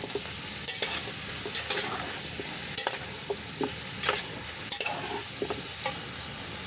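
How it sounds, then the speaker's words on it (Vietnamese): Chicken being stir-fried in a pan with garlic and lemongrass, a steady sizzle with scattered stirring scrapes and clinks, close and alone with no talk. "giờ tỏi với xả thơm rồi thì đổ gà vô mình xào"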